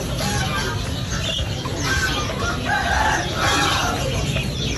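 An Aseel rooster crows at a busy animal market, its loud drawn-out calls rising over constant crowd noise and clucking from other fowl nearby.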